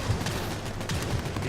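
Sniper and other gunfire crackle in the video game Firefall as a dense, distant-sounding volley of sharp shots over a busy combat background, steady and moderately quiet.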